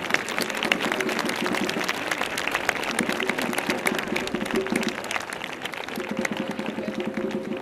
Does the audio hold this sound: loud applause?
yes